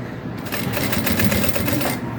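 A sewing machine stitches a seam on a crossbody bag, its steady, rapid mechanical whirring running continuously and close for about two seconds.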